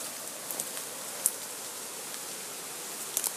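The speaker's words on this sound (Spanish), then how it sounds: "Ya comenzó a llover recio otra vez." Heavy rain hisses steadily in a broad, continuous wash, with a few sharp drips or taps standing out now and then against the even downpour.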